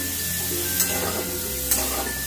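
Cauliflower fries in a wok with a steady sizzle and hiss, while two soft stirring scrapes break through the crackle.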